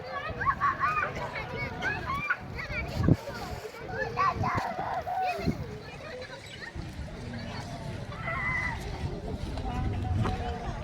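Splashing water carries on steadily as people bathe along the bank of the Ganges at low tide, with lively chatter from adults and children mixed throughout.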